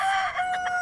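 A rooster crows once, a loud, close, sustained cock-a-doodle-doo that fills the short moment alone.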